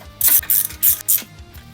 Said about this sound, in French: Clé de 10 à cliquer.